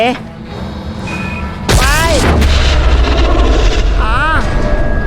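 A planted bomb in Call of Duty Modern Warfare 3 goes off inside a submarine with a single loud, heavy blast and a long rumbling roar, under someone speaking.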